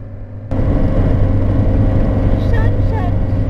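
Steady low rumble of a car driving along a road at sunset, loud and continuous after a soft start, with no talking over it.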